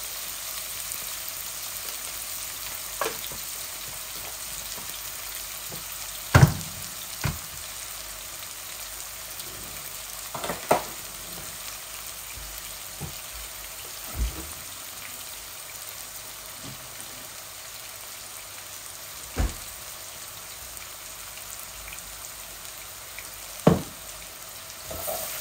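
Onions frying in a pan with ginger, garlic and salt for a Bangladeshi chicken-and-potato curry, giving a soft steady sizzle broken by a few sharp clinks from stirring spaced several seconds apart.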